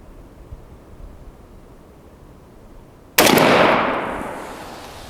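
A single loud shotgun blast goes off nearby while a turkey gun is patterned, striking sharply after a quiet outdoor stretch and then fading into a long, rumbling decay.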